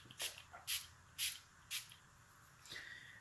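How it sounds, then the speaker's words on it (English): A pump spray bottle mists hydrating liquid onto skin in four quick, evenly spaced hissing bursts, close and fairly quiet, with a softer fifth spritz near the end. "I put this on, I spray this on."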